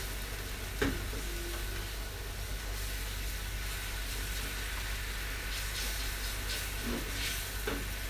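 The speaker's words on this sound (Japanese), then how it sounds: "この焦げたフライパンの 茶色い部分が美味しさがぎっしり詰まってますのでそれを白ワインで溶かしていきます" White wine poured into a hot frying pan to lift the browned, stuck-on bits, giving a steady loud sizzling hiss with a few scraping knocks of a utensil against the pan, and no voice.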